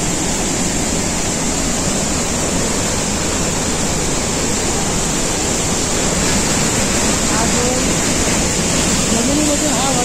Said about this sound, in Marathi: बघा किती सुंदरसा हा वॉटरफॉल आहे, डेव्हिस वॉटरफॉल